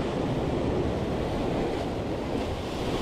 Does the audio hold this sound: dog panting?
no